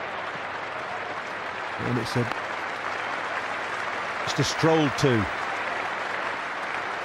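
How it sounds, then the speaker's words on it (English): A crowd of England supporters at Lord's claps through a one-day international against Pakistan, rising in two short bursts. A commentator talks over the steady background murmur. "Every run receiving thunderous applause from this England, or from the England supporters in this crowd"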